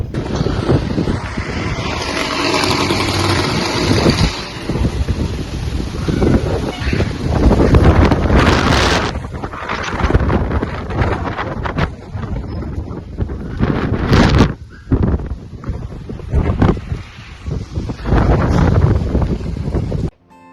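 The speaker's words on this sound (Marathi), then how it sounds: "खूप तुफान आलं होतं, खूप वारा चालू होता" Strong storm wind in Indore, buffeting the microphone with loud, continuous roaring gusts that swell and ease throughout, with no talk.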